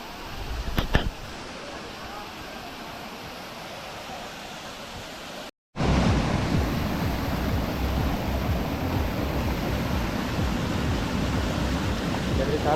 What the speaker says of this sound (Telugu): మన వాటర్ ఫాల్స్